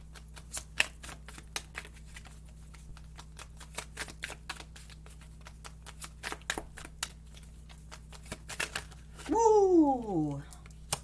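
Tarot cards are shuffled by hand at close range in a long run of rapid, crisp snapping riffles over a low steady hum, ending in a brief rising and falling whistle-like sound.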